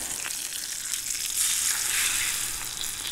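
A hot pan from cooking Maine brook trout over a fireside is cooled down fast, giving a loud, steady hiss that swells in the middle and then eases slightly, close up and continuous.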